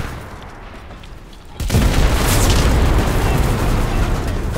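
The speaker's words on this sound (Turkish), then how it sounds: "Tank patlamak üzere." Tank exploding in the video game Enlisted: a sudden loud blast cuts in partway through and rolls on as a sustained rumbling roar, with low game ambience before it.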